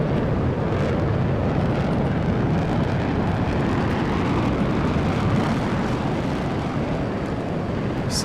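The jet engines of an F-14 Tomcat in Flight Simulator X burn fuel with a steady, dense, broadband roar, loud and unbroken throughout with no voices.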